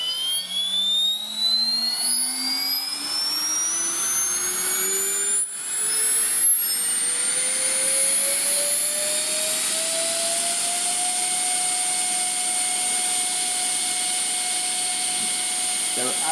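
An ALZRC 3800KV RC helicopter motor with 60A ESC, run without rotors, spins up in a steady rising electric whine that climbs in pitch for about eleven seconds, then holds a constant high tone, loud and close throughout.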